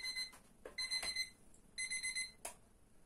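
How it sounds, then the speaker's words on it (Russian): An electronic alarm clock beeps in a kitchen during cooking, in short bursts of rapid, high-pitched tones, repeating in a pattern, fairly quiet, with a few soft clicks between. "будильник зазвенел мой"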